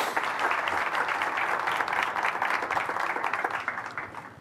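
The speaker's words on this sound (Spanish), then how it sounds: "Recíbanlo con un aplauso," An audience breaks into sustained applause to welcome a guest onto the stage at a Spanish-language financial talk, many hands clapping steadily at a moderate level before tapering slightly at the end.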